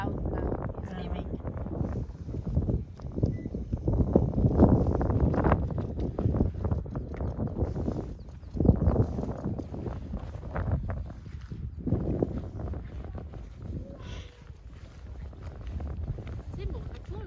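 Gusty wind buffets a microphone on a foggy, cold mountain hike up Volandstind in Flakstad, a rough, fluctuating roar that rises and falls in waves throughout.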